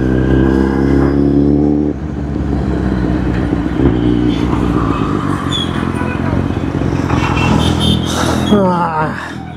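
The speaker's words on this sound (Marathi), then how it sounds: "बॅक फायर कशी वाजतीये." A Kawasaki Z800 motorcycle engine revs loudly up close, rising and falling in throaty bursts with sharp popping backfires, while people talk nearby.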